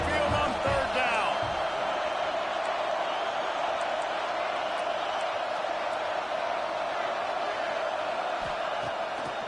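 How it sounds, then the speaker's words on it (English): Alabama Crimson Tide home crowd roaring at the stadium on third down during the Iron Bowl, a dense, steady wall of crowd noise sustained throughout, with a commentator's voice faintly audible underneath. "The Tide crowd rolling noise down onto Saban Field on third down"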